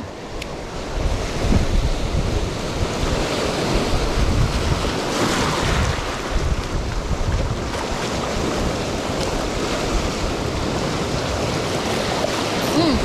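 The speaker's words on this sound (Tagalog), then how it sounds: "Grabe, lalaki ng alon dito." Large ocean waves crash and roll at the shore in stormy weather, with steady wind buffeting the microphone throughout; continuous loud surf with no voices.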